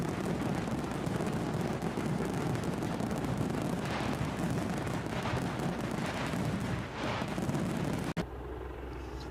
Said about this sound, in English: Fireworks for you, my friend.